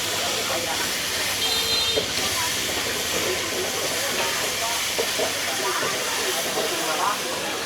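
Food sizzles on a street food griddle at a Chinese street stall, a steady hissing crackle with nearby voices and market bustle mixed in throughout.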